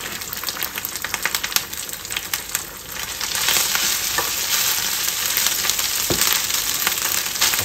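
Cooked basmati rice stir-fried in a hot pan, a continuous loud sizzle with scraping and tossing of a utensil, steady and close throughout, no talk.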